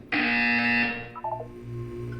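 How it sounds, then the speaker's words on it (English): A loud electronic buzzer in the game Portal 2 blares as one steady harsh tone for about a second, followed by a few quieter chiming beeps and a low hum. "When you hear the buzzer, look up at the ceiling."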